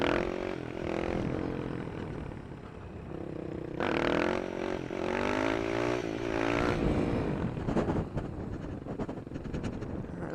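Supermoto motorcycle engine revving hard through a wheelie, its pitch swelling and dropping in surges over steady wind buffeting against the microphone.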